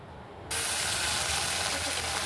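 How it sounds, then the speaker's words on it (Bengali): Water is poured into a pan of frying vegetables for an oats recipe, setting off a sudden loud sizzling hiss after a quieter half second of low frying, which then continues steadily. "এবারে আরেকটু নাড়াচাড়া করে জল দিয়ে দিলাম"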